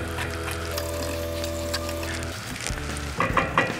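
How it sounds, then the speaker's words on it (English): Sugar lumps stirred and broken up in a pan of melted butter, a steady sizzle with scraping and clinking of the spoon, close and moderately loud, no talking. "pretty much just stir and break some of these blocks of sugar"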